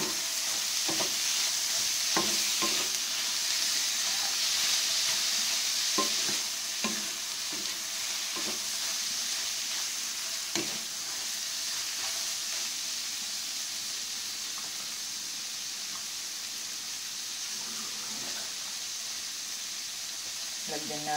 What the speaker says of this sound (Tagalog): Lalagay ko na rin ang corned beef. At ating inekos-meko.